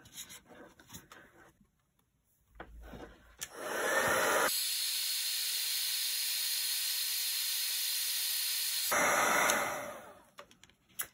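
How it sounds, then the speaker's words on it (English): A heat tool switches on and blows a steady, loud hissing rush of air for about five seconds over puff paint, then cuts off, with handling noises before and after. "So I want to get my heat tool going."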